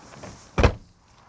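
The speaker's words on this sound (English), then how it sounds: "In the i3, you also get these rear hinged back doors." Rear-hinged back door of a BMW i3 electric car opening, a single short latch clunk and thump standing out alone against quiet background.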